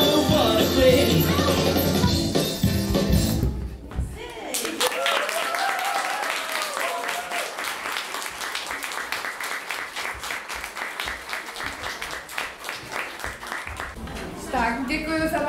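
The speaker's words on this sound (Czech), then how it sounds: "Tak, děkuji za váš aplaus" An audience at a children's Christmas show in Čtyřlístek claps after a song. Music ends, then a dense burst of applause runs for about ten seconds before a voice starts speaking.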